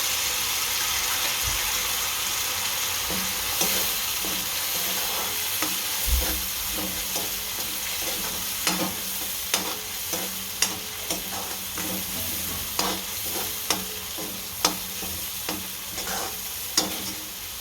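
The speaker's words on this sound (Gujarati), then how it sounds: "આપણું તેલ ગરમ થઈ ગયું છે આ નાખી દઈએ એમાં ચટણી હવે ગેસ એકદમ ઢીલો કરી નાખવાનો હા હલાવી નાખવાનો" Chutney frying in hot oil in a home kitchen while being stirred for sev usal, with a steady close sizzle and a regular series of sharp utensil scrapes and clicks against the pan, no voices.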